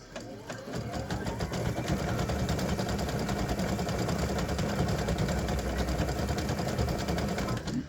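A sewing machine stitches red thread onto a free-standing lace candy cane earring, running in a steady, fast, close mechanical whir that starts after a short pause and continues without a break.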